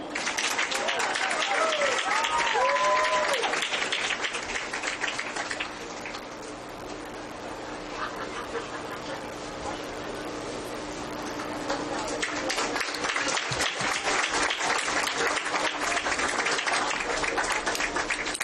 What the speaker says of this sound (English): A round of applause for Stephen Baker, Miranda, Caitlin Sizemore,